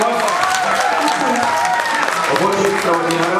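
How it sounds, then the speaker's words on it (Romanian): Audience applause at a NextStar holiday 2013 talent show in Romania: a steady wall of clapping from a crowd, with sustained voiced or musical tones running underneath throughout. "Aplauze, vă rog frumos!"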